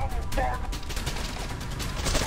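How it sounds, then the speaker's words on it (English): Rapid automatic fire from a weapon in the video game Trepang2, a dense, continuous burst of loud shots lasting about two seconds over steady game noise. "I'll fire this weapon for 2 seconds."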